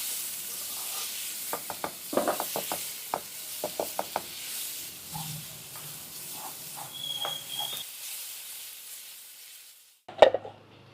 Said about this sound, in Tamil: இப்போ வந்து நல்லா கிளறிடுவோம் கிளறி இந்த வெங்காயம் வெங்காயத்தால் ரெண்டும் ஒன்றா சேர்ந்து நல்லா வதங்கட்டும்